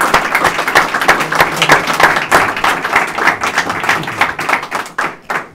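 Audience applause at a talk on the Trafalgar naval campaign: a dense patter of many hands clapping steadily, fairly close and loud, thinning out and fading toward the end with no talk over it.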